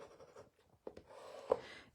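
Bone folder burnishing a paper card: soft, faint rubbing and scraping strokes with a few small taps, close and quiet.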